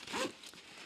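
A zipper on a Mountainsmith bag is pulled in one quick, close, raspy stroke, followed by faint ticks of handling.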